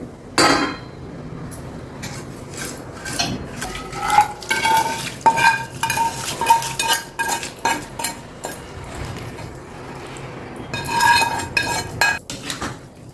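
Cooled tempering being mixed into grated raw mango pickle with a spoon, giving repeated close clinks and scrapes against a steel bowl in an irregular rhythm, with a few sharper knocks near the start and a busier stretch toward the end.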